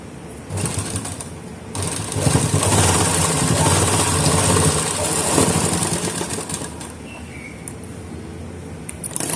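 A sewing machine stitches a tassel cord in a steady, continuous mechanical whir that runs loud and close for nearly the whole stretch, with a brief pause near the start.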